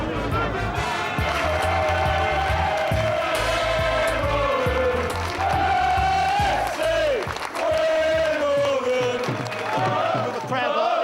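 Wimbledon football supporters' crowd roaring and chanting in a loud, continuous wall of voices, with cheering swelling and dipping throughout.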